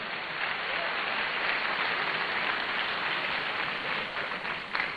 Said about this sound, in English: I think we can give him another round of applause.